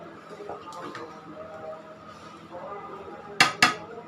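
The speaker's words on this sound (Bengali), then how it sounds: "ঢাকনাটা দিয়ে রাখি।" A lid set onto a full pot of biryani cooked on an electric stove lands with two quick, sharp metallic clinks close by, following a stretch of soft kitchen clatter and low background noise.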